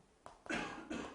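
A person coughs twice in a classroom lecture setting, short harsh bursts with a brief pause between, fairly close and moderately loud with no talking over them.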